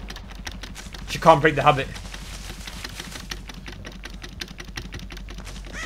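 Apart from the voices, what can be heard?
loud computer keyboard typing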